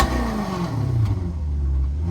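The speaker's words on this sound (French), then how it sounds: "Donc, le bruit à l'échappement, c'est ça." Maserati GranTurismo exhaust in sport mode with valves open, a steady deep rumbling idle-to-rev drone that sits loud and close, with a low engine tone sweeping gently across the whole stretch and no talking.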